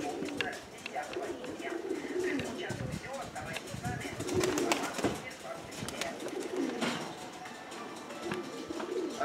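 Domestic pigeons, including black Crimean birds, cooing steadily in a dovecote in a village, with people talking nearby in Russian over the birds.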